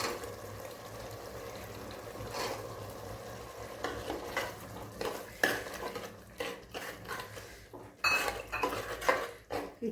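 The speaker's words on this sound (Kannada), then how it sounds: "ಆಲೂಗೆಡ್ಡೆ ಮತ್ತು ಕರಡು ಬಟಾಣಿ, ಹಸಿ ಬಟಾಣಿ ಹಾಕಿದ್ವಲ್ಲ, ಇದು ಒಂದು 2 ಮಿನಿಟ್ಸ್ ಹಂಗೆ ಫ್ರೈ ಆಗಬೇಕಿದು." Potatoes and green peas frying in a pan, a spoon scraping and clinking against the metal as they are stirred, with a soft sizzle underneath; irregular close knocks and scrapes, quiet, with no talking.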